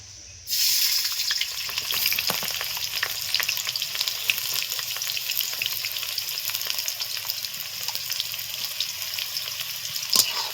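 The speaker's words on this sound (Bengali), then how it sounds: "তেল গরম হয়ে গেছে একদম সরু সরু করে কেটে রাখা পেঁয়াজ দিয়ে দিচ্ছি" Thinly sliced onions drop into hot mustard oil in a kadai for biryani, breaking into a sudden loud, continuous close-up sizzle that holds evenly throughout, with no voices.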